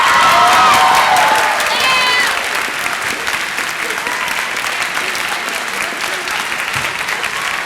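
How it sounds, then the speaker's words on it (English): An audience at a school spring band concert applauds loudly and steadily, with some cheering and a few whistles near the start, and the clapping continues under a crowd murmur throughout. "if you will hold your applause until I go through the rest of these"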